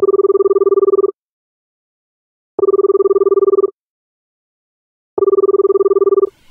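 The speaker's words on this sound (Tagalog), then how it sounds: "Kaya tatawagan ko na siya, si Kyrie." Outgoing phone call ringing tone in the Roblox game Brookhaven, three loud steady electronic ring bursts of about a second each, evenly spaced by silent gaps, with no voices.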